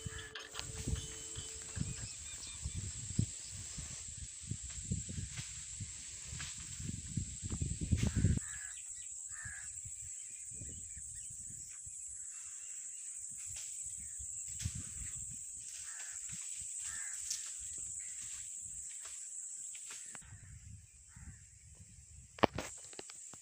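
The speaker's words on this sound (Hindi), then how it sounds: "मैं अपनी आवाज़ बंद करूँगा और आप परिंदों की आवाज़ सुने" Birds call beside a village fish farm, with repeated bird cries scattered over a long, steady background of breezy outdoor noise and some mechanical creaking.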